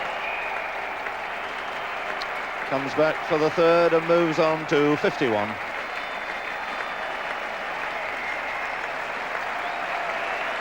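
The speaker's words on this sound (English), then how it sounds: "Applause from the England fielders" Polite cricket applause from England fielders at the Oval in a 1976 Test against England, as Viv Richards reaches fifty; a brief steady patter of clapping that rises and fades after a few seconds beneath a commentator's voice, with a low crowd murmur throughout.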